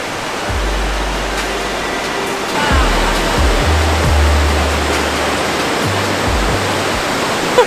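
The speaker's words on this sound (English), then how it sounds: "The waterfall is so beautiful." Seikino no Taki waterfall seen from a bridge on a freezing day: steady broadband rushing of falling water, close and continuous, with a few soft low thumps underneath and no talk.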